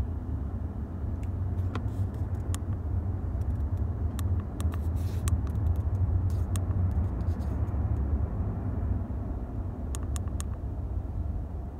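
A Nissan 350Z with new valve covers idles steadily without misfiring, a constant low rumble with a few faint ticks and clicks on top, close by and with no talking.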